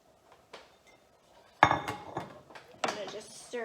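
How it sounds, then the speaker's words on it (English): A spoon clinks and scrapes against a pot while vegetable lentil soup is stirred, giving sharp metallic knocks spaced irregularly across a few seconds amid quiet kitchen sounds. "I'm gonna just stir this in."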